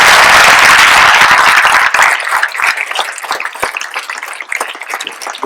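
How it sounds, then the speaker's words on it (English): Loud applause from parents, staff and audience at a school event for the children, dense clapping at first that thins into scattered claps after about two seconds. "give a huge round of applause to the children of the day"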